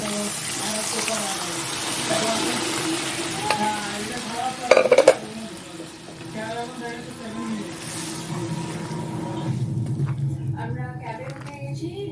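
Dried peas go into sizzling masala for ghugni, with a steady close frying sizzle and stirring throughout, a short louder clatter near the middle, then the hiss settling down softer.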